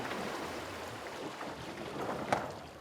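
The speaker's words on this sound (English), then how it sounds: "And there is wind, but in a complete opposite direction." Wind blows at open sea aboard an Ocean Race sailboat, a faint, steady rush with soft gusts and a light knock, with no talk.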